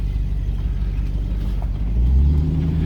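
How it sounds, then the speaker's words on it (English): A 1994 Aegean Blue Range Rover reverses into a yard, its engine giving a steady low rumble that swells slightly louder toward the end, close by with no talk. "Just backing into the yard here and I can close the gates."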